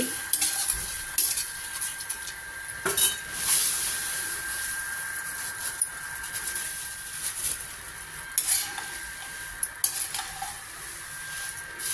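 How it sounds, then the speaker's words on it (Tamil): Puffed rice with turmeric stirred and dry-roasted in a hot kadai for masala pori, giving repeated scraping and rustling strokes with light metallic clinks over a soft hiss, close and moderately loud, no speech. "அந்த கடாய் சூட்லேயே நல்லா வறுபட்டுடும் பொரி"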